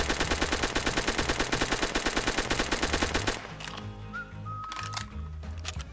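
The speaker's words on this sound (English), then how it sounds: "this small gun that has like a very little recoil" A small low-recoil gun fires rapidly in Phantom Forces, giving a fast, even burst of sharp cracks that stops partway through and leaves quieter in-game noise.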